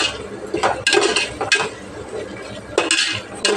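Cashews and curry leaves frying in oil as a tempering in a pan, stirred with a metal spoon that scrapes and clinks against the pan in several loud, close bursts over a low sizzle, with no talk.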